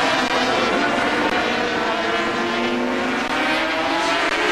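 500cc Grand Prix racing motorcycles at the Paul Ricard circuit scream past in a continuous high-revving engine wail, several bikes blending into one loud, unbroken drone.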